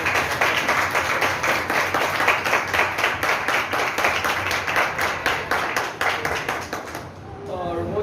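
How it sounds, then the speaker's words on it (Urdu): A church congregation claps loudly and steadily at a sermon gathering, a dense, continuous burst of applause lasting several seconds before tapering off as a voice begins to speak. "زوردار تالی بجائیں گے"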